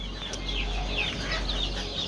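Desi chickens clucking on a small poultry farm in Bangladesh, a steady chorus of soft overlapping clucks and chirps at moderate distance with a low background hum throughout.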